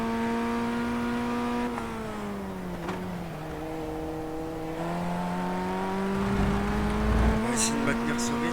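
A race car engine in the sim racing game iRacing holds a steady, loud drone, its pitch dipping and climbing with throttle over the lap. A few brief squeals or clicks appear near the end.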